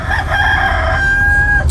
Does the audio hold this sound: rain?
no